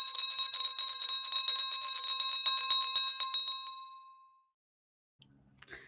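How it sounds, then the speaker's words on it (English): A meditation bell rings out loud and clear with a bright, sustained metallic tone, then decays over about four seconds into near silence, followed by faint small knocks at the end. "close your eyes, let the bell ring"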